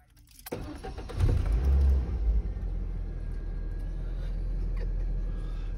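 A manual five-speed car engine cranks for about a second, then catches and settles into a steady, close idle rumble.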